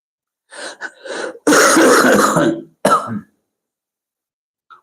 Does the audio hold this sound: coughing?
yes